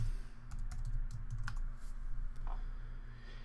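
Fingers typing a username and password on a computer keyboard, a quiet run of separate key clicks with short pauses, close up over faint background hum.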